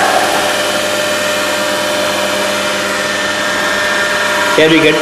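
A DC motor on a lab test bench, field current set to 0.4 amps at about 180 volts, runs near 1200 rpm with a steady tonal whine and hum; someone briefly speaks over it.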